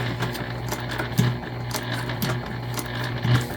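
A sewing machine backstitches the top of a slip pocket on a gift bag, a steady near mechanical whir with brief pauses and bumps as the stitching reverses, no voices.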